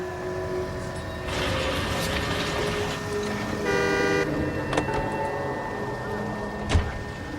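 A car in LA Noire idles and drives along, its engine droning steadily beneath a short tooting horn blast and scattered clicks and knocks, close and moderately loud.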